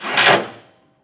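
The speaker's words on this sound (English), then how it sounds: "Now we'll just take one of our self-tapping screws and run that up into our ring" A single brief burst of whirring from a drill running a self-tapping screw into a ring terminal during a Roadmaster diode kit install on a 2025 Ford Ranger, loud and close, fading out quickly.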